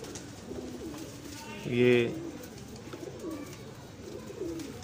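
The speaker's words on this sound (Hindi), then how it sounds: "ये गोल्डन टैडी नारा है" A golden teddy pigeon of home-bred stock gives a single soft coo around the middle, under someone speaking quietly against faint background noise.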